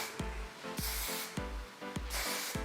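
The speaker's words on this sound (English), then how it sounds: "So I'm going to go in with some of the Kenra smoothing spray." A Kenra smoothing spray is sprayed onto long hair in about four short hissing bursts at a steady pace, close and fairly loud, with faint music behind them.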